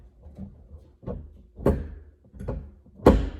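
A stuck door handle on an older Jeep is yanked repeatedly, giving five dull thunks and rattles that grow louder, the last one sharpest and closest.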